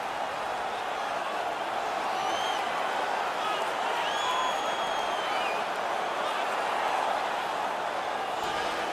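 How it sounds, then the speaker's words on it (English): A hockey arena crowd in NHL 19 roars after a fight, a broad sustained wash of cheering and clapping, with shrill whistles rising over it and a commentator talking through. "While the place erupts, the upper hand goes to the home team."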